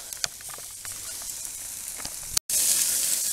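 Sausages and pea meal bacon frying in a pan, a continuous sizzle with scattered sharp pops and crackles, brief interruption near the end before the hiss returns louder; no talking.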